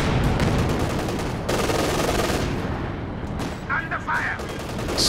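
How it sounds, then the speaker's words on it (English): Artillery and heavy gunfire pound a Company of Heroes 2 battlefield, with loud continuous booms and rapid machine-gun bursts layered close together throughout. "Some major artillery coming down."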